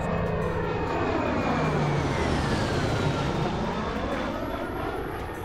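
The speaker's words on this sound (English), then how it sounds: "The Bearcat is the last generation of piston engine aircraft." A Bearcat propeller fighter roars past, its piston engine loud and steady, with the pitch sweeping downward as it flies by.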